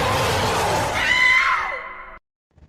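A woman in a horror story lets out a loud, sustained scream that rises in pitch and then breaks off abruptly into silence, followed by a faint brief knock at the end.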